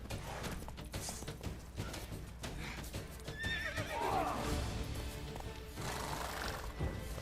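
In The Witcher 3, a horse whinnies near the middle amid hoofbeats and game ambience, the neigh rising and falling over a steady rumbling background, with no talk.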